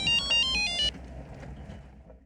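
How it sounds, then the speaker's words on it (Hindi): A telephone rings with a bright electronic tone, four quick repeating bursts over about a second, then it stops and faint room noise continues. "रुको पापा, मैं आपको फोन उठा के देती हूँ।"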